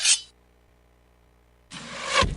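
A video game lawnmower engine gives a short burst, drops to a low idling rumble, then roars up again loudly near the end, all brief and alone.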